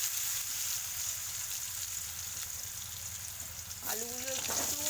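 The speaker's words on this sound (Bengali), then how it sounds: "আলুগুলো ভেজে নেবো আমি" Potato pieces fry in hot oil in a pan with spice seeds, giving a steady, fairly loud sizzle throughout, and a voice speaks briefly near the end.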